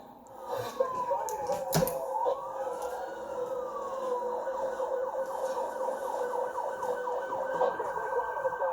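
A police car siren in a Need for Speed racing game wails continuously with rising and falling sweeps over steady engine and road noise, with a sharp impact midway.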